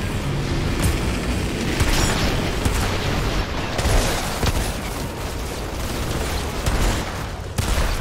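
Gunfire in the shooter video game Outriders: loud, rapid bursts of shots and booming impacts in a dense, continuous barrage, with sharp cracks standing out above a heavy rumbling bed.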